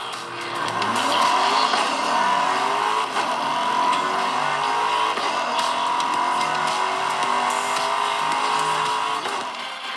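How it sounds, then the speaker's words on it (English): Racing game sounds from the ROG Ally X handheld's built-in speakers: engines revving, tires squealing and skidding, continuous and bright with a thin, tinny quality. "the built-in speakers are surprisingly loud, and this is what they sound like"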